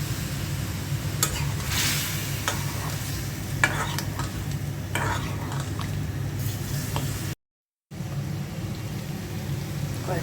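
Chicken going into a hot pan with onions in a home kitchen and being stirred while it cooks, with steady sizzling and scraping stir strokes throughout, close and fairly loud, a short silent gap near the end.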